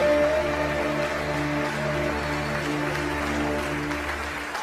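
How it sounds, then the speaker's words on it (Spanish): An audience at the Premios Gardel awards ceremony applauds in a dense, steady wash of clapping, with sustained music tones running underneath throughout. "Fuerte el aplauso."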